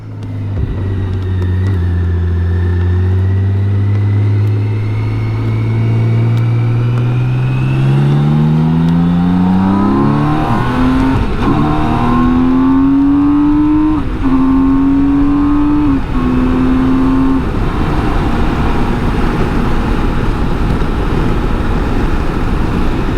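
A BMW K1600 GT motorcycle accelerates hard through a run of quick upshifts toward sixth gear, the engine note climbing and dropping with each change over steady loud wind rush, close and continuous with no talk.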